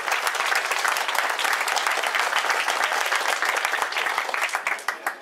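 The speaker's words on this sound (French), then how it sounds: "Un tonnerre d'applaudissements décidé à Masha Payenborg." A crowd applauds cyclist Masha Payenborg at a Tour de Bretagne Féminin stage ceremony in Radenac, producing dense, sustained clapping close by that stays strong and then fades slightly near the end.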